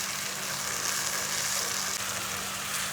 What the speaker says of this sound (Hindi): टमाटर और प्याज को मैं फ्राई कर रही हूँ।